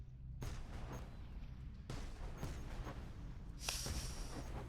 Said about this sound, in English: It's fireworks for my birthday.